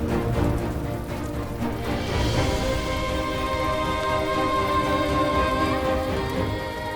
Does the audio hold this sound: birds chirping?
no